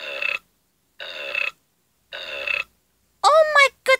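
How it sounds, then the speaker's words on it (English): Loud, close burps from a child standing up in a classroom, three drawn-out belches spaced about a second apart, then a short voiced outburst at the end. "how dare you burp in class"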